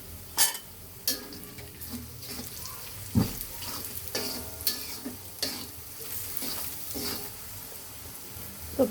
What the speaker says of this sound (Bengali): পেঁয়াজ মরিচটা সামান্য একটু ভেজে নিব।